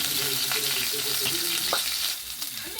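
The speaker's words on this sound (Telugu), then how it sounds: "ఇది గోల్డెన్ కలర్లోకి వచ్చిందాకా ఫ్రై చేసుకుంటే" Food sizzles and fries in a pan until golden, a steady crackling hiss with occasional stirring clinks and scrapes, close and fairly quiet.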